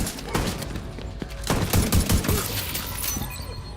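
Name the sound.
gunfire in the video game The Division 2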